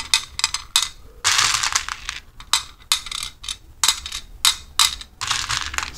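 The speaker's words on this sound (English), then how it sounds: "So she has to grab 10 pony beads." Plastic pony beads grabbed and rattled by hand, giving bursts of sharp clicking and clattering with short pauses between, close and fairly loud.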